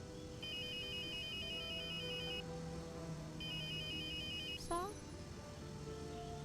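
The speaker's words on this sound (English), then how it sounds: "Alright, Linda, I'll talk to you after I answer my phone." A phone ringtone in the Starshine Legacy video game, a clear electronic warbling ring that sounds twice in repeating bursts over steady background music, followed by a short sweeping chime.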